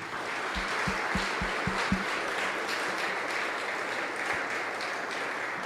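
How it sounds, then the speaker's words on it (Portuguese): A church congregation applauding during a sermon on end-times signs, a steady broad wash of clapping with a few louder isolated claps near the start, sustained evenly throughout. "dê um aplauso ao Senhor"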